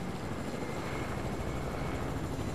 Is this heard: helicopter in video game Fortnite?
yes